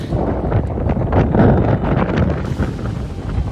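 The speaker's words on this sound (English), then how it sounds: "Windy as all hell." Strong wind roars and buffets the microphone in uneven gusts on the plains near Mount Kenya, loud and close, with no other sounds standing out.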